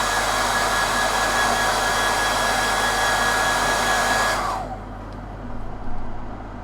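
A hairdryer blows hot air over freshly airbrushed paint on a miniature model, a loud steady rushing hum that cuts off abruptly, leaving a quieter low motor rumble fading down.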